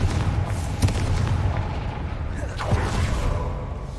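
A Confringo explosive spell going off in Hogwarts Legacy, a dull low boom with rumbling blast noise over a steady game soundscape, plus a sharper crack later on.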